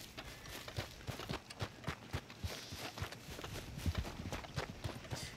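Horse hooves clip-clopping at a steady walking rhythm in Red Dead Redemption 2, fairly faint and alone, with a repeating pattern of soft thuds.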